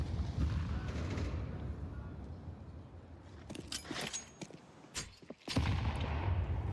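Grenade explosion and gunfire in Counter-Strike at a STARLADDER Budapest Major match: a low rumbling blast, then sharp cracking shots and bursts, moderately quiet under game ambience, with faint commentary talk.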